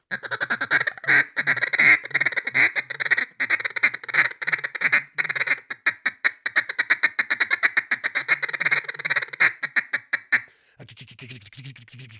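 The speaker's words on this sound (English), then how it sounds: "you can start adding quacks and lonesome hens and strings of greeters" A duck call blows a long run of loud quacks, first spaced, then quickening into rapid strings of short greeter-style calls, ending with softer notes.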